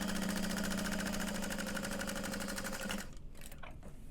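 Sewing machine top stitching a folded tote bag seam, running fast and steady with a loud, even mechanical whir for about three seconds before stopping abruptly, followed by faint handling sounds.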